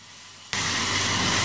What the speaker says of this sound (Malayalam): ഒരു പാനിലേക്ക് ഇട്ട് കൊടുക്കാം. ഇതിലേക്ക് ഒരു 3 ടേബിൾ സ്പൂൺ വെള്ളവും കൂടെ ചേർത്ത് കൊടുക്കാം.